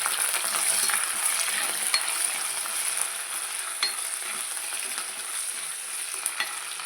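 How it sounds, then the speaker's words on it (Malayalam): Chopped onion and curry leaves fry in hot oil for a Kerala-style coconut fish curry, giving a continuous close, bright sizzle with occasional scrapes and clinks of a spoon stirring. "അരിഞ്ഞ് വെച്ചാൽ ഉള്ളി ഇട്ട് കൊടുക്കാം. കറിവേപ്പില ഇട്ട് കൊടുക്കാം."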